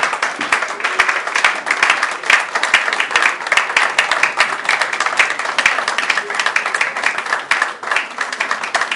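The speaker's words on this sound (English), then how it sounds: "let's give a very big round of applause" Audience at a climate and sustainability business lecture breaks into sustained, loud applause, dense clapping continuing steadily for several seconds with faint crowd murmur beneath.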